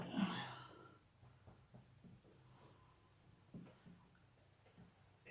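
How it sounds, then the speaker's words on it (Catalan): Faint scratching of a pen or pencil writing words by hand, in short soft strokes with small pauses, quiet and close, with no one talking. "és que vull escriure"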